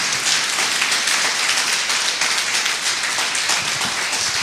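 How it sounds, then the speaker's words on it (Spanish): A congregation at a church service gives loud, sustained applause, with dense clapping running evenly from start to finish. "¿Le quieres dar un fuerte aplauso a Jesús?"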